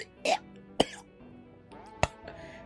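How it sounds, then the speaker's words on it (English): A wet, gross cough breaks out in short rough bursts with throat-clearing sounds, close and fairly loud, separated by quieter gaps. "a gross cough, like"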